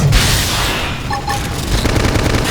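Gunfire bursts during the final boss battle of Xenoblade Chronicles X, loud and dense, with rapid shots over explosive booms and battle effects.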